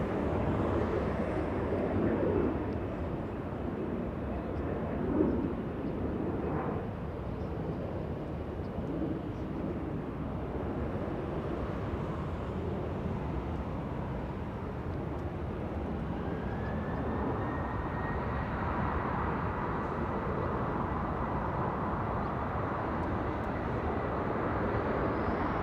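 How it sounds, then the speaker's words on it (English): A Delta Airbus A380 airliner taxis at Los Angeles International Airport, giving a continuous low jet engine drone with a rising whine late on, heard from a distance. "Delta A380 getting a move on, flying to Seattle, Washington"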